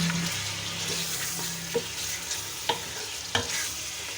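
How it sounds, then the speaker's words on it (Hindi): Meat and onions sizzle steadily in a pan for a bottle gourd and meat curry, with a few sharp clicks of a utensil stirring against the pot. "इसको भी हम अच्छी तरह गोश्त के साथ ही फ्राई कर लेंगे।"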